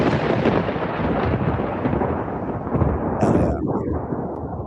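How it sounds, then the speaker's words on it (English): A thunder sound effect plays during a podcast, a loud, sustained rumble that fills the whole stretch with a brief brighter crackle near the end. "Can we get some thunder in there, Primal?"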